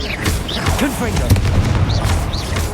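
A Confringo blasting spell erupts in Hogwarts Legacy as a booming explosion, with swooping magical whooshes and a dense rumble running through the short burst.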